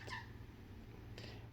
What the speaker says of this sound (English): my cat just talking to the spirits